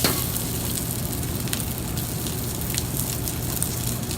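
Rice steams and sizzles in a hot wok with fried rice juice, a dense continuous hiss and crackle with a few sharp ticks of tossing, close and loud with no talk.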